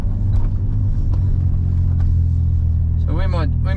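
A Suzuki Cappuccino drives along after a rear differential repair, its engine and road rumble loud and steady from inside the car, with a brief voice near the end.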